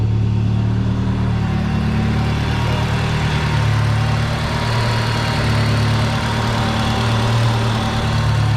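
Honda Integra DC2 engine idling after a coil-on-plug install, a steady, loud, low rumble that holds even throughout with no revving or voices.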